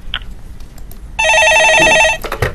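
A telephone rings while a call is placed: about one second of a loud electronic ringing tone stands out clearly between quieter clicks and handling noises.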